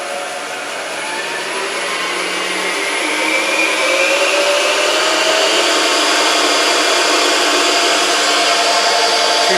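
A Boxford AUD metal lathe runs at about 650 RPM, a loud, steady mechanical whir and hum that holds constant and builds slightly over the first few seconds.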